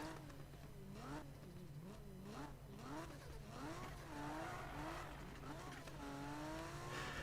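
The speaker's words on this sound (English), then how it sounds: "they've done a really good job of capturing the sound of the 2JZ motor" A Toyota 2JZ engine in the Need for Speed video game revs up and down repeatedly in rising and falling sweeps, loud and continuous with a steady low hum underneath.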